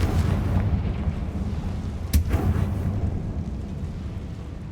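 A Confringo fire spell explodes in Hogwarts Legacy, giving a dense, rumbling blast with one sharp crack in the middle over a sustained low roar that stays loud throughout.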